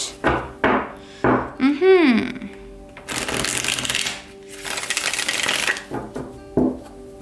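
Tarot cards shuffled by hand for an Aquarius reading, with a quick burst of riffling taps followed by two longer, denser stretches of papery shuffling, close and fairly loud.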